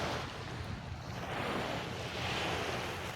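Small, gentle ocean waves wash onto a beach in Boracay, a steady soft surf with wind noise across the microphone and no voices.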